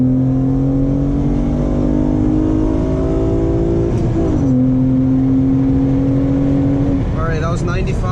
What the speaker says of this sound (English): let's do a second gear pull